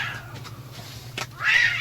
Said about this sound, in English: There's a cat fight happening at the screen door.